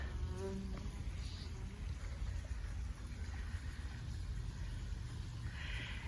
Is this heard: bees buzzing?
yes